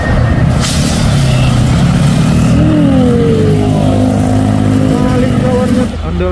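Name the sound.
Hino container trailer truck climbing Bukit Kodok hill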